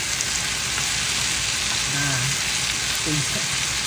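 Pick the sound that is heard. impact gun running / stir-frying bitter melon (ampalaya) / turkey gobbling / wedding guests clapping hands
stir-frying bitter melon (ampalaya)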